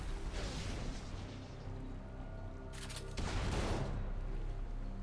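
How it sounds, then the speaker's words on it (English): Blast cannon shots in the naval battle game Battle Bay, booming reports with a sharp double burst near the middle over steady background battle noise. "That blast cannon, man."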